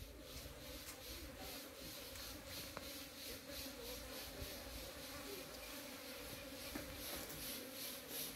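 A faint, continuous hum of many flies buzzing together as they feed on mangoes, steady and low, with no voices.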